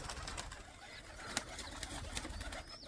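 High flyer pigeons coo softly at a distance, a few brief calls scattered among faint outdoor background noise and occasional small knocks.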